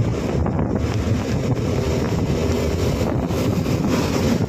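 Strong wind roars steadily across the microphone, a loud continuous rumble with no voices.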